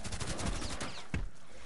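Shotgun gunfire in a chaotic multiplayer zombie shooter, with a few sharp blasts amid continuous loud game noise, one strong shot standing out near the end.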